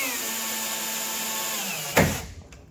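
A drill spins at a steady high whine while pre-drilling holes for 316 stainless #8 by 1-1/4 inch self-tapping screws in the gunwales of a Michalak AF4 Grande skiff, ending in a sharp burst and quick spin-down.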